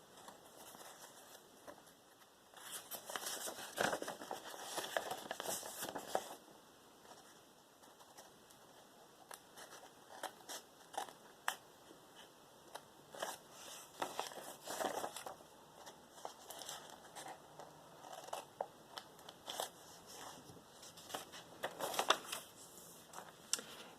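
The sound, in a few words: scissors cutting paper for slot and tab bookbinding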